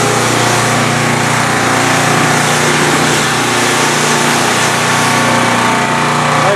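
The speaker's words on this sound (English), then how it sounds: "Got him back here pressure washing." A small pressure washer engine runs loud and steady nearby, a constant droning hum with no pauses and no talk.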